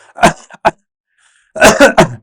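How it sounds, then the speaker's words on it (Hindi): A person coughs in short bursts nearby, a single hack followed by a brief one, then after a silent pause a quick cluster of three harsher coughs, all loud and close. "इस तरीके से खांसिए ताकि यहां पे जो है वो दबाव ना बने"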